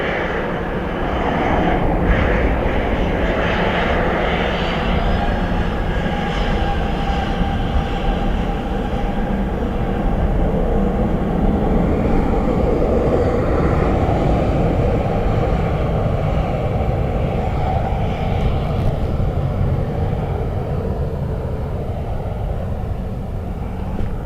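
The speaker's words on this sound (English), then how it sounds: "BA19 with a rejected takeoff, Ali is saying." British Airways Airbus A319 at Dublin Airport during a rejected takeoff, a loud, sustained jet engine roar heard from a distance with a deep rumble that holds steady throughout.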